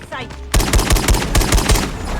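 An SKS rifle fires in Call of Duty Mobile: after a short lead-in, about seven loud, punchy shots come in a quick uneven sequence, close and dominant.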